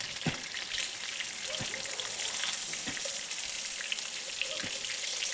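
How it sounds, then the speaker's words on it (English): Freshly caught redfish frying in hot oil, a steady dense sizzle with scattered pops and crackles running throughout, close and fairly quiet. "fry some fish"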